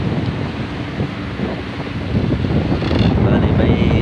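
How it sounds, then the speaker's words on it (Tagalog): Ocean waves washing in under steady gusting wind that buffets the microphone, a continuous broadband roar that swells louder toward the end, with no clear voices. "Abot ang alon."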